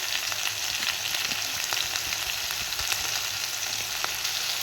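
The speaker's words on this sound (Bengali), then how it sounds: "আবারও কিছুক্ষণ একটু নাড়াচাড়া দিয়ে নেব" Vegetables with salt and turmeric fry in a pan, giving a loud, steady, close sizzle with faint stirring movements underneath and no talking.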